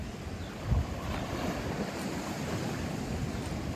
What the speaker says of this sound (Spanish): En aquella esquina hay olas más rompientes, ¿ves?